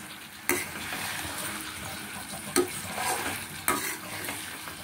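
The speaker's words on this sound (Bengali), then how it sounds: "এবারে আমি এক এক করে কোফতাগুলো দিয়ে দেবো, দিয়ে বেশি একদম চাড়বো না" Raw banana kofta balls fry in hot oil with a constant sizzle, broken by three distinct scraping stirs of a spoon against the pan, with no voices.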